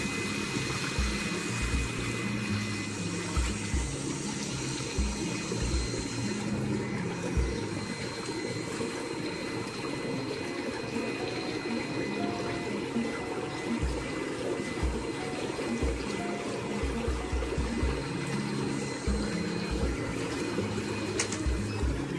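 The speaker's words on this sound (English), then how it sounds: "So the bubbles are kind of noisy, but they're very relaxing." An INTEX PureSpa inflatable hot tub's bubble massage runs steadily, a continuous churning, frothy rush of air through water with a constant mechanical pump hum beneath, no voices.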